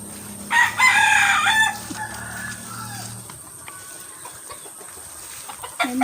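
A loud rooster crows once nearby, a long drawn-out call, followed by quieter outdoor ambience and faint clucking.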